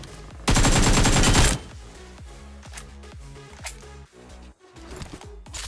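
Rapid bursts of gunfire from a shooter video game, a dense loud volley of automatic fire followed by scattered single shots and short bursts echoing at mid distance.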